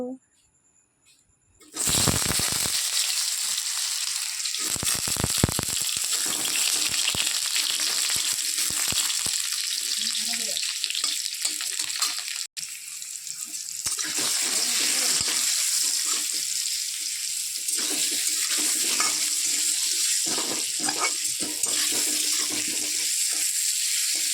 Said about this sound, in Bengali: নুন হলুদ দিয়ে আলুটা ভাজি করে নিই